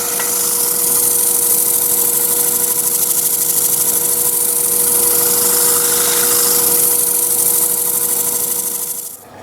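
A power sander working a wooden firewood vase, a loud, steady droning whir with a constant hum that holds for several seconds, then cuts off abruptly at the end.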